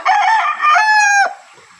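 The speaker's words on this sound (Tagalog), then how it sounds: "yung mga manok nila" A single rooster crows loudly and close by, a rising call that holds and then breaks off, followed by quiet.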